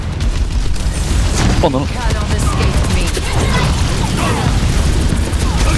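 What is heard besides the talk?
explosion in the video game Overwatch 2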